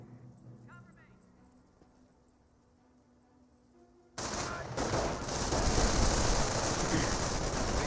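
Machine gun fire erupts in a Company of Heroes World War II match, a sudden loud sustained burst of rattling automatic shots that follows a quiet stretch of game ambience and continues without pause.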